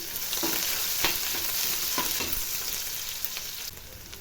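Chopped onion with cumin, mustard seeds and urad dal fries in about four tablespoons of oil, a close, continuous sizzle broken by several spoon scrapes and clicks.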